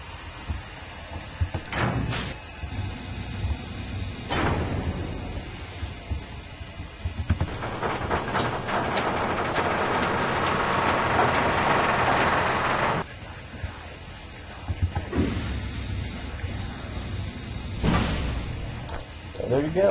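Custom door sound sequence in a GZDoom map for the Doom video game, played several times: short loud mechanical bursts and a longer grinding rumble of a door moving, with a few clanking hits before and after.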